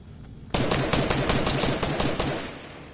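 Sniper rifle gunfire in the video game Fortnite erupts abruptly after a quiet half-second, a loud, dense barrage of rapid cracking shots that keeps going for about two seconds before easing off, with no voices over it.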